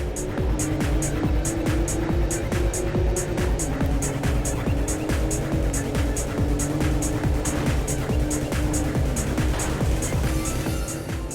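Engine drone of a Toyota Supra race car in the Import Tuner Challenge racing game, a steady loud roar with faint tire noise and a rapid regular ticking throughout, with no talk.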